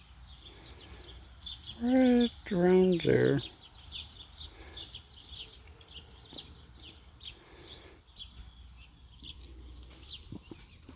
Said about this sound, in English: We got a little sparrow